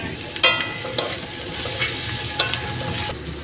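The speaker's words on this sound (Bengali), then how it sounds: "এবার দিলাম মোচাটা, হলুদ, জিরে বাটা, লঙ্কা গুঁড়ো দিয়ে দিলাম।" Banana flower frying with turmeric, cumin paste and chilli powder, a steady close sizzle punctuated by a few sharp metallic scrapes of stirring, with no talk.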